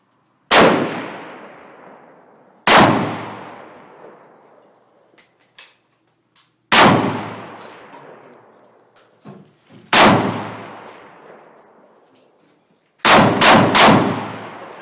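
An AR-15 rifle fires about six sharp, loud gunshots outdoors, each followed by a long decaying echo. The shots come singly at irregular intervals, and the last three arrive in a quick cluster.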